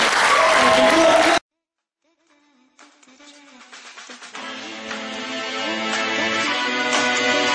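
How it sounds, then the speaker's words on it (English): A crowd claps and cheers loudly for a breakdance crew at a b-boy event in France, cut off abruptly after about a second, followed by silence and then music slowly fading in. "On peut les applaudir"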